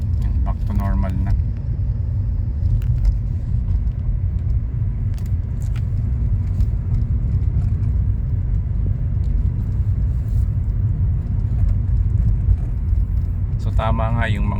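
A Kia Rio engine with a shift-shock and RPM-drop fault idles at a steady RPM, a loud, even low rumble throughout, with a couple of short clicks near the start and end.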